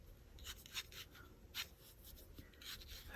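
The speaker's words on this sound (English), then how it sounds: "Just sketch in some lines to" Pencil sketching lines in a journal, soft close scratchy strokes in short repeated bursts, quiet and alone.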